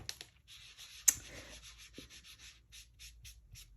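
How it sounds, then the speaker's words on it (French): Ink pad rubbed in small circles onto paper to colour card flowers: soft, rhythmic scratchy strokes repeating steadily, quiet and close, with one sharper tap midway and no talk. "tout simplement en rond circulaire, on vient mettre la couleur"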